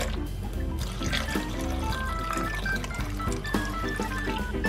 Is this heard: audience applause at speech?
no